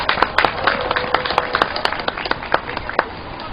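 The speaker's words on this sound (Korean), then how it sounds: "좋은 시 들려주신 우리 김응춘 시인님께 다시 한번 큰 격려의 박수 부탁드리겠습니다" Audience applause for a poet at an evening rally and cultural event supporting a high-altitude sit-in protest, with scattered hand claps that stay fairly thin and uneven over background murmur.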